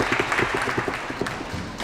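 Crowd applauding at a squash match, a steady, fairly close patter of many hands clapping that carries through the whole short stretch with no voices over it.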